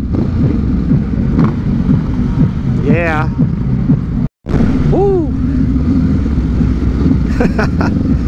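Honda Rebel motorcycles ride together in a motorcade in San Rafael, Bulacan, their engines droning loud and continuous close to the microphone, with horns and wind noise over them while people cheer and shout.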